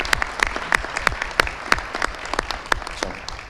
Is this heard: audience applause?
yes